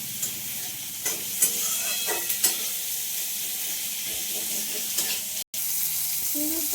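Thin potato slices sizzle steadily in a pan, with a few light clinks and scrapes of stirring and a brief drop-out near the end.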